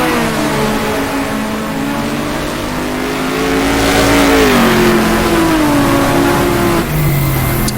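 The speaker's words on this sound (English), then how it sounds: "Got another Capri coming up the inside of me," A Ford Capri race car engine in the GTR2 racing game, revving loud and steady with rising and falling pitch through gear changes, another car close by, no talk.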